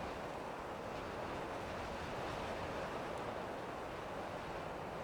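Waves breaking on a sandy beach on the Isle of Barra, a steady broadband roar of surf mixed with wind buffeting the microphone, constant and fairly loud throughout with no talk.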